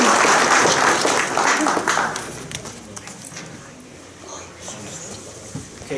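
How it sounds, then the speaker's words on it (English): A crowd applauds loudly at first, the clapping thinning and fading into murmured voices and scattered taps. "we need to probably give them both a round of applause again"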